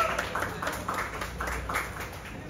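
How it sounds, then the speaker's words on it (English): Audience applause at a Heineken influencer event in Kingston, Jamaica: a small crowd claps in a loose, repeating rhythm, fairly faint and steady throughout, with no voices over it. "Give a round of applause, please."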